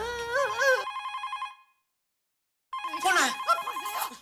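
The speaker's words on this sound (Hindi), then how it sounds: "फोन आया, टप्पू का है देख तो।" A telephone rings in two electronic bursts separated by a short silence, each a loud, warbling, pulsing tone close by.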